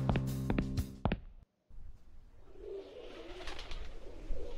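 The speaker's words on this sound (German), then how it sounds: "Tauben auf dem Dach." Pigeons coo on a roof in the video game Randal's Monday, soft low cooing under faint ambient noise after a short burst of other game sounds.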